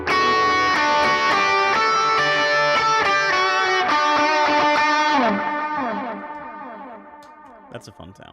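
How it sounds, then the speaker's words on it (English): An electric guitar through a Morning Glory overdrive, pushed harder with a boost pedal, rings out in thick, sustained driven chords. The notes decay into a fading tail with a few faint picked notes at the end. "Push that with a little bit of the boost."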